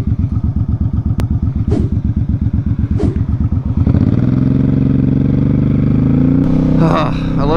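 Motorcycle ride along curvy Ohio roads, the engine thumping close and loud in a fast steady rhythm before rising into a smoother revving drone, with a rider's voice heard over it.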